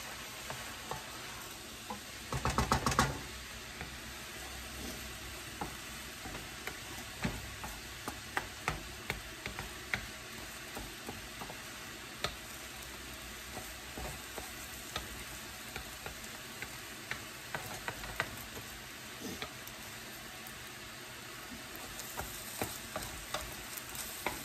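Eggs frying in a pan for fried rice, a steady sizzle with scattered crackles and pops throughout, plus a louder burst of stirring early on, close and unaccompanied by talk.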